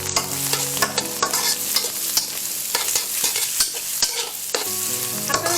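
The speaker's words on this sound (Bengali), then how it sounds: "গাজর দিয়ে দিলাম, কুচো করে রাখা কিছুটা রসুন দিয়ে দিচ্ছি। এখন এগুলিকে আমরা ভালোভাবে ভেজে দিই।" Carrots, beans and chopped garlic fry over high heat in a pan for fried rice, a loud continuous sizzle broken by repeated metal spatula scrapes and clacks in an uneven rhythm, close up with no voices.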